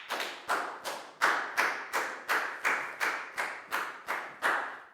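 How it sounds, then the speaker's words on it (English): A classroom of Year 4 pupils claps in unison, a rhythmic series of about a dozen sharp, even group claps, close and clear. "Big round of applause for Bang Pon,"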